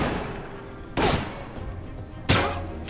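Two sharp pistol shots ring out in the video game Alpha Protocol, spaced over a second apart, loud and close against a low background rumble.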